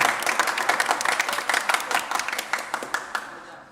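A church congregation at a Holy Saturday Mass applauds with dense, moderately close clapping that thins and fades over a few seconds.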